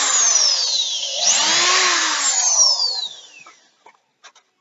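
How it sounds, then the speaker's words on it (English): A power drill bores two screw holes for a homemade stove cover, its loud motor whine rising and falling in pitch for about three seconds before spinning down, followed by a few faint clicks. "2 more screw holes with our drill."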